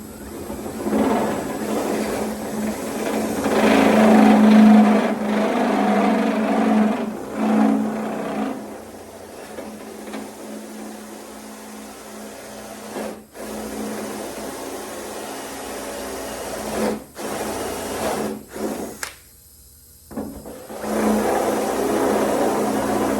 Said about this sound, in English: I'm going to go ahead and drill this open out